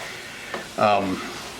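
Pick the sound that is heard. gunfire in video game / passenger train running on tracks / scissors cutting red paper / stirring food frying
stirring food frying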